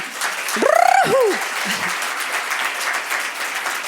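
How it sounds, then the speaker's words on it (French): Audience applause at a women's business forum: steady, dense clapping from a crowd fills the whole stretch, with a brief rising and falling whistle-like call near the start. "on t'applaudit, on t'ovationne"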